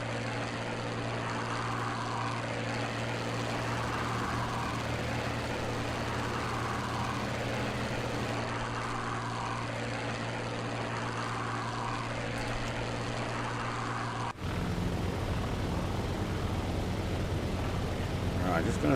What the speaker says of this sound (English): There's a definite repeated sound you get from the engines like this.